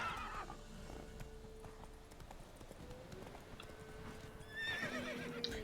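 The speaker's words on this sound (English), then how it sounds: "Ay, Dios mío, el caballo lo odio." In The Witcher 3, a horse clip-clops along and whinnies, with hoofbeats running throughout and a brighter neigh near the end. The game sound is faint and heard alone.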